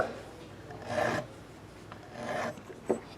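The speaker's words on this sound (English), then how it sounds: "just one little quick swipe on each fret just to smooth them out" A metal file rasps across guitar frets to smooth them: two soft, drawn-out swipes followed by a small tap, close and quiet in an otherwise still room.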